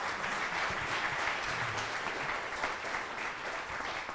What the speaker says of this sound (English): Josh, have a warm round of applause for you.